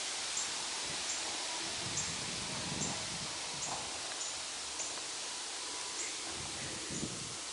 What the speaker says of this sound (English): Oh boy, there's wind today.